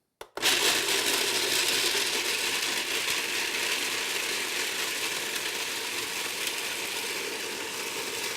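A blender whirring nonstop as it blends a Shakeology shake with almond butter, loud, steady and close, starting abruptly and running alone.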